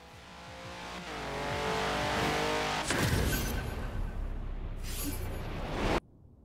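A racing car's engine in Forza Horizon 4 drones loudly and steadily, building in revs before a sharp shift into a rougher, roaring burst with a hint of tire noise, then cutting off abruptly near the end.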